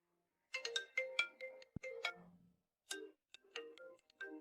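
A phone rings indoors, a melodic ringtone in two short bursts with a pause between, clear and alone.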